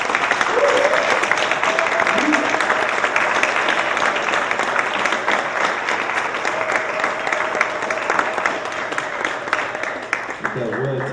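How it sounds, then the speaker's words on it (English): A festival audience applauds after a film screening, sustained dense clapping filling the whole stretch at steady loudness, with crowd voices and a few indistinct vocal sounds mixed in, easing slightly near the end. "Let's give them a round of applause for that film."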